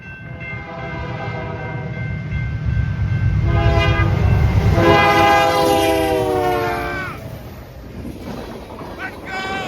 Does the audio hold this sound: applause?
no